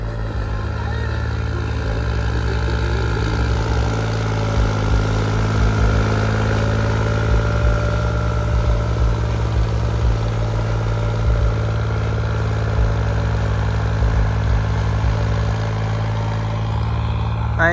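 A Holland tractor engine runs in a still, windless field, a steady low idling rumble with slight fluctuations throughout, close and continuous, with a voice talking over it.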